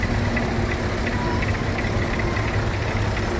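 A Fordson Major tractor engine idles and chugs steadily at a steam rally, a continuous mid-pitched rumble with a faint rhythmic knock, fairly close and without speech.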